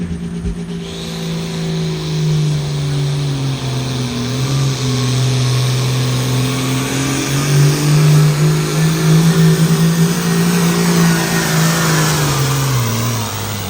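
Pulling tractor "Buzzard Bait", driven at a truck and tractor pull, roars close and loud with a high-horsepower engine that revs and climbs steadily through a long continuous pull.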